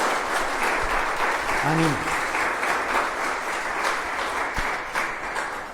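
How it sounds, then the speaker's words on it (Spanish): An audience at a church gathering gives the bishop a sustained round of dense applause, loud and steady throughout, with a voice calling out briefly over it. "Les damos un aplauso a nuestro señor obispo."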